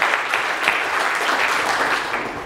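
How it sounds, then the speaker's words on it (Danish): Brief, steady clapping from an audience at a lecture, an even wash of hand claps without voices. "I må godt klappe lidt undervejs"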